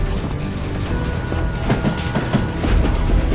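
In the Western video game Call of Juarez Gunslinger, a train rumbles along with a loud, continuous roar and a faint rhythmic clatter of wheels on the rails.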